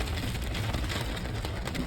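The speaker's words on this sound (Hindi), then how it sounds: "यहाँ तो बहुत तेज बारिश शुरू हो गई है।" Heavy rain pouring down steadily near Chitrakote Falls, a dense continuous wash of noise with no pauses, recorded close by while a family stops at a hotel-restaurant.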